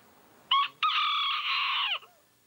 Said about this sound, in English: The Key West chickens,